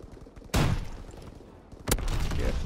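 Gunfire in a World War II video game: two sharp, loud gunshot bursts about a second and a half apart, each trailing into echoing battlefield rumble.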